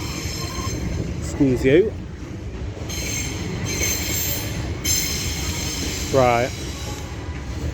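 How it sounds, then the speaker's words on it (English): Hull Trains Paragon passenger service, unit 802304 William Wilberforce, arriving at Doncaster station on the East Coast Main Line, with steady rolling rumble and two sharp wheel squeals, while a person briefly speaks nearby. "now coming in over here is a Hull Trains Paragon service from Hull to London King's Cross"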